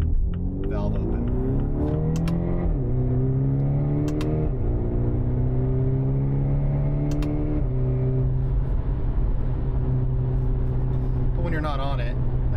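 A 2024 Mini Cooper Clubman JCW with a Dinan exhaust, valve closed, cruises at highway speed with a steady low drone that climbs slightly through a couple of shifts, while someone talks over it.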